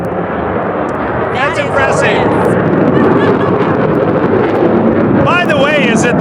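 F-35 fighter jet roaring past, a loud broad rumbling roar that holds steady throughout, with people talking and cheering over it.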